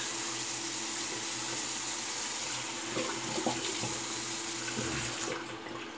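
Running tap water rinsing a Leaf Shave razor, a steady splashing flow in a sink with a few brief knocks and gurgles midway, tapering near the end.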